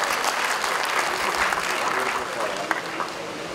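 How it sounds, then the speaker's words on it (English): A crowd applauds student coordinators and participants at a school sports day, sustained dense clapping from many hands that stays loud and even, with a few voices mixed in. "I request you all to give a big round of applause to all the student coordinator and participants"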